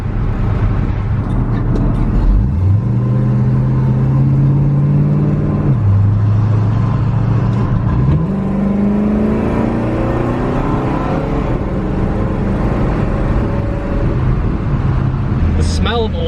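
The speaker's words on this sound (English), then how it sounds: "It's really nice at about 60, just cruising in overdrive." An old car cruises in overdrive at about 60 mph, its engine drone steady and loud from inside the cabin, with the pitch dropping at shifts then slowly rising as it holds speed.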